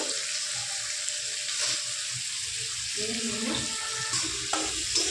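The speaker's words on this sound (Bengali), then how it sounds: "এবার যাতে মশলাটা নিচ থেকে ধরে না যায় তার জন্য দিয়ে দিচ্ছে সামান্য একটু জল" A splash of water poured into a hot pan of fried onions and ground coriander and Kashmiri chili powder, hissing and sizzling steadily with light stirring clatter toward the end.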